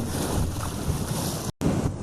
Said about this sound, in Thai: ลมพัดเย็นตลอดเลยช่วงนี้